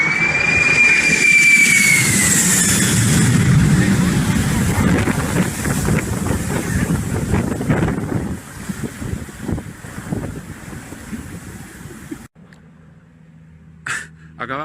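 Supertanker firefighting jet air tanker roaring low overhead while dropping retardant, a loud sustained whoosh with heavy wind buffeting the microphone that fades after several seconds, followed by a short quiet stretch with faint voices.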